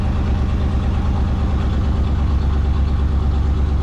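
Edsel car engine idling steadily with a deep, even low rumble and faint knocking pulse, loud and close, no talk over it, running in neutral while checking an oil leak.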